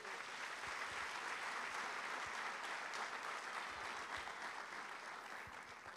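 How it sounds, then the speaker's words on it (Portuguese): Church congregation applauding Jesus during a sermon, dense continuous clapping from a large crowd filling the room evenly, with no voices over it. "Dê um aplauso a Jesus."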